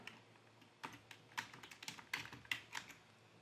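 Quick bursts of keystrokes on a computer keyboard, as a release note is typed while saving a component template in Altium 365; the clicks are close, irregular and uneven in force, with no talk.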